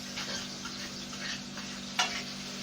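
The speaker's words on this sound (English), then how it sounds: "Fry fritters." Fritters frying in hot oil for a cornmeal porridge and ackee meal, a soft steady sizzle with a faint hum underneath and one sharp scrape or clink near the end.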